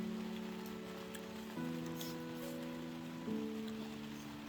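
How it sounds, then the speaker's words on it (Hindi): Steady rain falls without pause on a mountain trek near Panchachuli base camp in the Darma Valley, a soft continuous hiss with a faint low hum running underneath. "बारिश अभी भी देखो लगातार बारिश हो रही है भाई"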